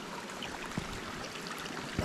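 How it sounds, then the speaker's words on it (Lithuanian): A small stream flows through a rain-soaked forest; the water makes a faint, steady rushing murmur with a couple of soft knocks, and no one speaks. "Čia dar upelis teka."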